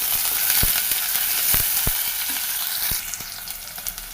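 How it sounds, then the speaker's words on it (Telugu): Curry leaves and onion sizzle loudly in a hot pan with chana dal, a steady close frying hiss broken by a few sharp stirring clacks. "ఒక 5 మినిట్స్ ఎర్రగా వేగనిద్దాం."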